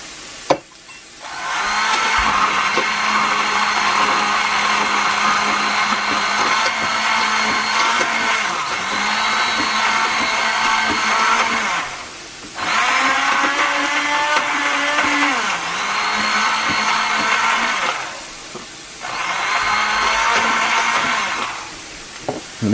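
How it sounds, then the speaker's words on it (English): A loud electric blender whirs in three long bursts with butter poured in, pausing briefly between runs, its motor pitch dipping slightly as it works. "Plug in my blender."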